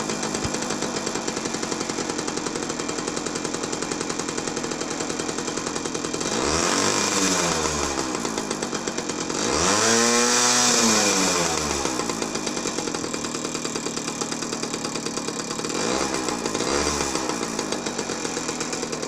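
Small two-stroke engine of a Jawa Typ 05 moped running after its carburettor was cleaned, a steady buzzing idle with several rising and falling revs, loud and close throughout.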